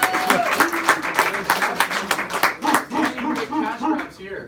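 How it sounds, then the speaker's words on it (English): An audience at a team meeting claps in a dense burst of applause from many hands, fairly close and loud, tapering off toward the end while a voice speaks over it. "Let's give little Josh a big round of applause."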